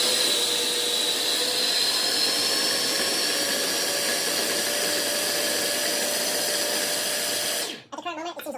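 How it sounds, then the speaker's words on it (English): A food processor blends pesto ingredients with a loud, steady whirring drone that runs without a break for nearly eight seconds, then cuts off abruptly, leaving a brief quieter tail. "we're going to blend this all up now in our food processor"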